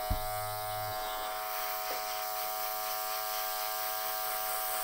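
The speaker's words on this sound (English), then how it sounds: "I have got the airbrush." An airbrush hisses steadily while spraying a base coat of paint, a faint continuous buzzing spray with a brief thump at the start.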